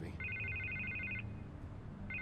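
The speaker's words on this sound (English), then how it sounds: "I can't get the phone to stop ringing." In a Batman Telltale video game scene, a telephone rings in a steady warbling electronic tone that sounds for about a second, pauses, and starts again over a low background hum.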